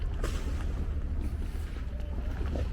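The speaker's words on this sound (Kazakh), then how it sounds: "Қайықпен келіп алып кетеді." A Venice water bus boat's engine produces a low, steady rumble close by, with wind and water noise over it.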